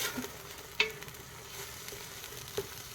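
Onions and eggs frying in a pan while being stirred: a soft, steady sizzle runs throughout, with a couple of brief utensil clinks near and faint.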